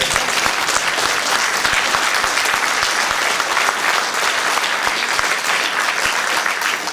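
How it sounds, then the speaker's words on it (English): A large audience at a retro gaming expo claps steadily and loudly throughout, a dense, even patter of many hands with no talking over it. "let's give these guys a round of applause"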